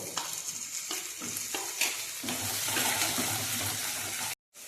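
Chopped tomato hits fried ginger and garlic in a hot pan, setting off a steady close sizzle with stirring scrapes throughout, then a brief cut to silence near the end before the frying resumes.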